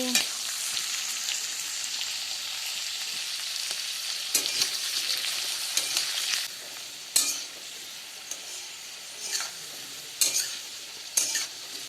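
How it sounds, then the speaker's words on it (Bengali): Potatoes fry in spiced oil in a pan over a medium flame, a steady close sizzle broken by several sharp scraping stirs and spatter bursts, with no voices. "আলুগুলো মিডিয়াম ফ্লেমে দু থেকে তিন মিনিট একটু ভেজে নেব"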